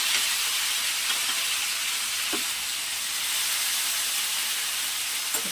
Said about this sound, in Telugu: దాని తర్వాత కట్ చేసి పెట్టుకున్న టమాటాస్ వేయాలి.